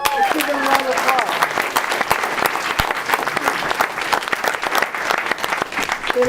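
Crowd applause at a Bernie Sanders campaign rally in Milwaukee, Wisconsin: dense, steady clapping from a large audience that fills the whole stretch without a break, mixed with some cheering voices.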